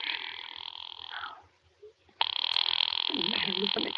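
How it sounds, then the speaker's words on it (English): An old-time radio drama telephone ring, a bright electric bell that rings, pauses briefly and then rings again, loud and close, with some voice underneath toward the end. "Ringing the police department."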